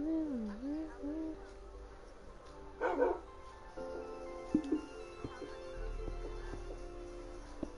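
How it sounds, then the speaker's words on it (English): A dog in the Minecraft video game gives a few short, wavering whines and barks, mid-level and set among scattered game sounds and clicks. "this dog is like following you and stuff"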